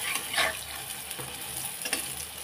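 Pumpkin and potato pakoras fry in hot oil, giving a steady close crackling sizzle with a few brighter bursts of bubbling and no voices.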